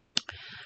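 A computer mouse clicked twice in quick succession, short sharp close clicks followed by a faint lingering tone.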